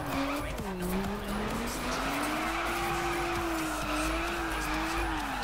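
A car drifts and skids across snow and ice in The Crew racing game, with a continuous loud engine whine that rises and dips as the tires slide.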